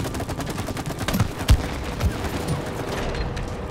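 Rapid gunfire crackles continuously in the co-op video game It Takes Two, with a few heavier thumps standing out from the steady shooting.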